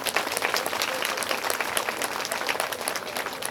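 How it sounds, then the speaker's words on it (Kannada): Loud, dense applause from an audience at a women's spiritual gathering in Ballari rolls on steadily without pause, a continuous wash of many hands clapping close by. "ಜೋರಾಗಿ ಚಪ್ಪಾಳೆ"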